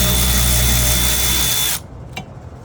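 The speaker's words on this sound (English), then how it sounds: "The cordless ratchet." A cordless ratchet spins out a brake caliper bolt on the rear brakes of a 2017 Honda Civic, a steady close mechanical whir that stops abruptly, leaving faint handling noise.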